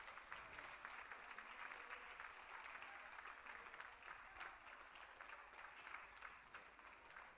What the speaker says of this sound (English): Last round of applause, ladies and gentlemen.